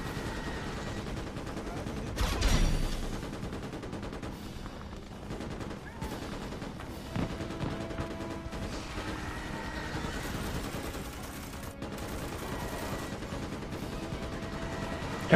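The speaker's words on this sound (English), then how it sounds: "How many rounds of ammunition has this man fired? Because I think he's been up there shooting since I joined" Sustained gunfire from a soldier shooting in Starship Troopers: Extermination, a continuous rattle of rapid shots running on for many seconds amid battle noise, fairly quiet in the mix with occasional voices over it.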